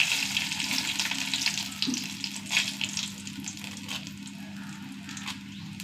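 Dried red chillies fry with mustard seeds in hot coconut oil, giving a steady close sizzle with bursts of crackling and occasional stirring scrapes, with no talking.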